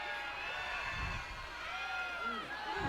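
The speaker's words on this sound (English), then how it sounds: "Boston's crowd starting to get live." Crowd at a women's football championship game in Boston, a continuous roar of cheering and whoops with voices swelling, loud and distant across the stands.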